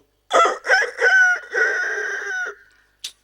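A person's voice imitates a rooster crowing, one loud drawn-out cock-a-doodle-doo in several rising segments, followed by a short sharp sound.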